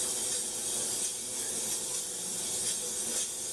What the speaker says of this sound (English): Let me spray the top so we don't have the flour issue.